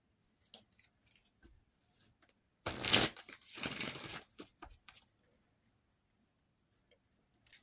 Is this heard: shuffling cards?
yes